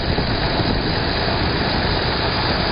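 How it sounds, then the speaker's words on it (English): A pickup truck's engine runs with a loud, steady, broadband rumble that never lets up, heard outdoors on a frozen lake during fuel cleanup work at Norway House, Manitoba. "This pickup's about to drive out onto the lake."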